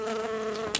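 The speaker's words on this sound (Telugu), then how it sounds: "ఈగ" A fly hums steadily close by with a thin, even drone that ends in a brief sharp noise.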